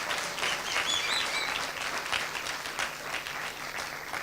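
An indoor audience at a World Intellectual Property Day celebration applauds fashion show models, a full sustained round of clapping at even loudness with a few faint whistles.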